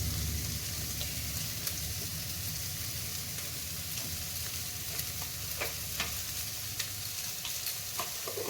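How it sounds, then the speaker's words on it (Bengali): Bitter gourd slices fry in a pan with dried red chillies, a steady close sizzle of hot oil broken by scattered stirring scrapes and light clinks throughout. "প্রায় ভাজা হয়ে গেছে,"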